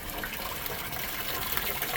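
A small waterfall runs in a steady, splashing rush of water, close by and fairly quiet, with no talking.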